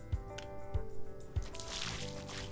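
Watering plants in the Dave the Diver video game gives three soft, wet squishing drips at roughly even intervals, quiet and close, followed by a faint liquid wash.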